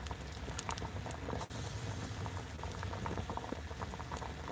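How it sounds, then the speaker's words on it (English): A pot of water bubbling at a steady rolling boil over a camp stove, close and continuous, with small pops and patter throughout and no voices. "I hear it boiling."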